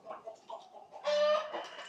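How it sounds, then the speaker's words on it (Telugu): Chickens clucking at an Amish farm in a forest setting, a few soft clucks early on, then a louder, sustained squawk from a bird being caught. "ఆ కోడిని అయితే పట్టుకుంటాడు"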